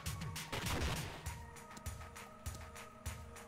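A gun fires diagonally in Iconoclasts, a retro-styled puzzle platformer, producing a burst of punchy blasts followed by several lighter, evenly spaced shots over game music and effects.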